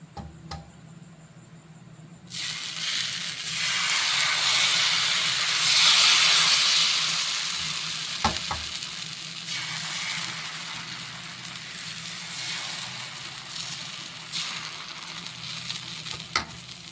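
Dosa batter hits a hot griddle and bursts into a loud, steady sizzle that swells over a few seconds, then settles into a continuous hiss with a few faint clicks.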